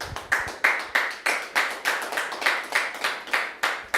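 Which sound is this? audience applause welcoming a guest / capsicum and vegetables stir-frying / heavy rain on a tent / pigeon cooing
audience applause welcoming a guest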